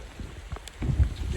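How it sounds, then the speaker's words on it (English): Heavy rain pours down at an off-grid mountain home under construction, a steady patter on surfaces with a voice speaking over it. "Considering it's pouring rain still."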